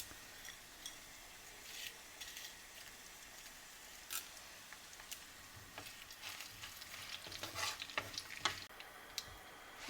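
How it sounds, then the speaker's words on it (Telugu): Crushed garlic and tempering spices crackle in hot oil, a faint continuous sizzle with scattered pops and stirring scrapes that grow busier toward the end. "వెల్లుల్లిపాయలు వేగినాయండి. వేగాక మనము ఈ పోపు దినుసులన్నీ వేసుకుందాము."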